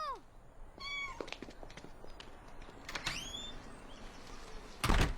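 A cat meows in several rising and falling calls, fairly close, against a low room background with a few clicks and a brief loud burst near the end.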